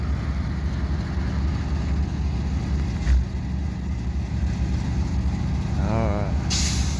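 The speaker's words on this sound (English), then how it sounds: "I heard them release the brakes" A deep, steady locomotive engine rumble fills the scene, with a brief thump partway through and a sharp hiss of a switcher train's air brakes releasing near the end.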